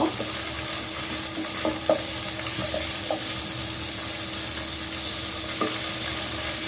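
Crushed five-spice seeds fry in hot mustard oil for chicken achari, giving a steady close sizzle broken by a few soft scraping stir taps.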